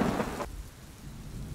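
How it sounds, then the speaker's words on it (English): A thunderstorm with steady heavy rain hissing throughout, a rumble of thunder fading away in the first half second, and the downpour continuing alone. "It's the storm. That's what's bothering you. I completely forgot that you don't like thunderstorms."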